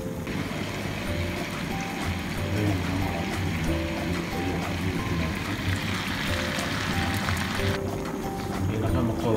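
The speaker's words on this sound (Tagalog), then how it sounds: "nalagyan natin siya ng tubig" Water is poured into a pot of cooking chicken adobo, a continuous close splashing and running flow that lasts throughout, heard under a person talking.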